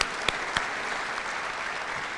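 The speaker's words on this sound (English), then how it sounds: "please give them a warm round of applause" A room of people at an awards night claps steadily in a dense, even burst of applause with a couple of sharper claps near the start.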